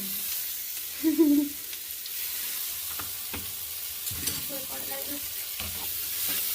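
Masala paste with ginger sautéing in a pan for Bengali egg tadka gives a low, steady sizzle with soft stirring scrapes and a brief louder clatter of the spoon near the start.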